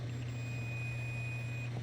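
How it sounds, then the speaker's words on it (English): A single steady high-pitched electronic beep from a multimeter continuity test on a fuse holds for over a second over a low hum, then cuts off. "Hear that? You hear that beep?"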